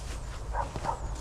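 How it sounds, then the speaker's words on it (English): Dogs on a sheep farm give two short, muffled barks in quick succession, set against steady low background noise. "sorry about the dogs barking"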